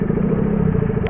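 A 2018 KTM RC 200 motorcycle idling close by, a steady low engine rumble with slight clatter running evenly through the short moment, no voices.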